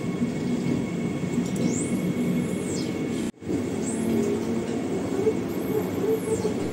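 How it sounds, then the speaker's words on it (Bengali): Howrah–Puri Vande Bharat Express pulling out at departure: a steady, loud rolling rumble of carriages with recurring high wheel squeals, briefly dropping out mid-way before resuming. "ট্রেন একদম রাইট টাইমে ছেড়ে দিয়েছে।"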